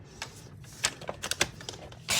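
A paper trimmer slices a 1/4 inch strip of card stock for a gift card box, giving a quick run of crisp, close clicks and scrapes as the blade travels along the edge. The sound is fairly quiet.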